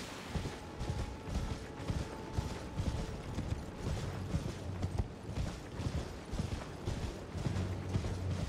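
Horse hooves galloping in Elden Ring, a rapid repeating thudding clatter that runs steadily throughout at moderate loudness with a faint creaking underneath, no talking.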